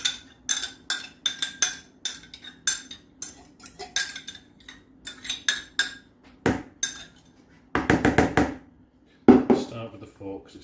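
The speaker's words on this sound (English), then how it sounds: "Start with the fork because it's very wet. Stir that round." A fork clinks and scrapes repeatedly against a bowl while wet cheese and wild garlic are stirred together, sharp rhythmic taps close up, with a few louder bursts near the end.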